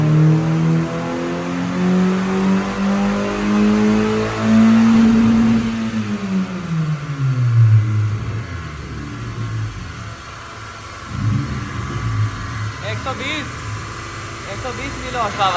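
A tuned car revs hard on a dynamometer, its engine note climbing steadily to a loud peak, then dropping away and easing back into a rough idle with brief blips of throttle near the end.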